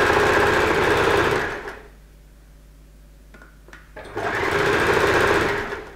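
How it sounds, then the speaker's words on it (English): A sewing machine stitches fabric for a simple kimono robe in two steady, fast bursts, with a short quiet pause between them while the fabric is turned. "Now I'm sewing from the top because I can feel where my fabric is underneath"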